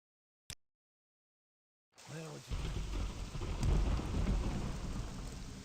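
Thunderstorm in the city of Vivec in the Morrowind video game: a single sharp click, then silence, then heavy rain roars in with a rumbling thunder roll, staying loud and steady to the end.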